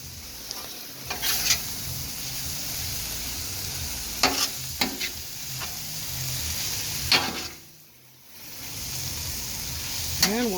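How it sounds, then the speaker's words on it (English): Steak for fajitas stirred on a Blackstone flat-top griddle: a steady close sizzle runs throughout, broken by several sharp spatula scrapes and taps, with a short quieter lull near the end. "just toss it on in, and we'll stir that steak on in"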